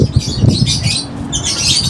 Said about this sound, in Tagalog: Ang ating mga African lovebirds ay nagpapapansin. Maiingay sila ngayong umaga.